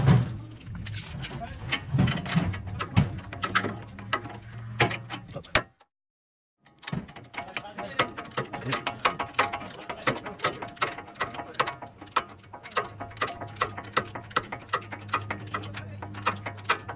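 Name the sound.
ratchet tightening bolt on SPC upper control arm adapter plate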